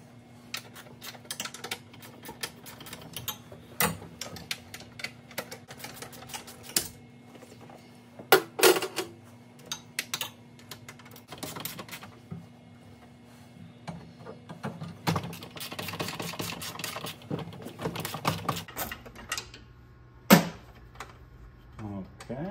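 Bolts being removed from the seat of a Toro snowblower, giving scattered metallic clicks, taps and ratcheting knocks at close range, with quiet stretches and a low steady hum underneath.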